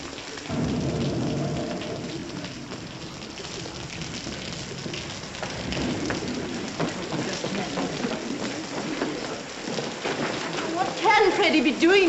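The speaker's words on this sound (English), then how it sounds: "Looks like rain." Steady stormy rain pours down on a city street, a broad wash of noise that holds evenly throughout, with people talking over it nearby.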